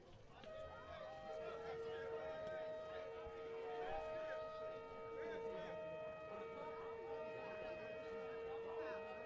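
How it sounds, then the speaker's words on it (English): At a high school baseball game, a siren wails continuously over the field with steady tones, heard somewhat distantly under the crowd ambience and announcers' talk. "I guess that's what they play for a chance at a strikeout."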